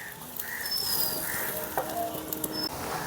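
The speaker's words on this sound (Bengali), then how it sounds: "দেখেন কত সুন্দরভাবে হয়ে যাচ্ছে ভাজাটা" Flat bean kababs fry in a pan with a continuous, close sizzle and occasional sharper crackles and pops.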